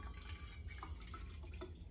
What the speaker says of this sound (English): I gotta fill this water bottle up with some water